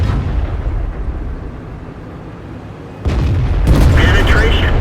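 Tank cannon firing in the World of Tanks video game, a deep, heavy boom that erupts after a low rumbling engine drone and is followed by a voice.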